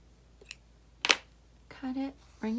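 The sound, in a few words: scissors cutting yarn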